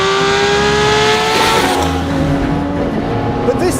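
A Singer-reimagined Porsche 911 DLS with a 500-horsepower naturally aspirated engine drives past loud and close, its engine note steady and sustained across the clip with a slight tonal shift midway, no voices present.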